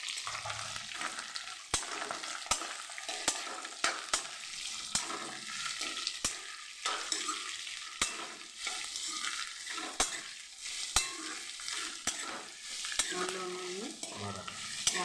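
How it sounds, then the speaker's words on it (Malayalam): Sliced onions and three cut green chilies sautéing with salt for a chicken parts curry, a steady low sizzle broken by regular sharp clicks and scrapes of a spoon stirring in the pan. "ഇതൊന്ന് നല്ലോണം നമുക്ക് ഉപ്പെല്ലാം ഇട്ടൊന്ന് വാട്ടിയെടുക്കാം."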